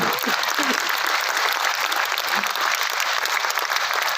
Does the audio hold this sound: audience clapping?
yes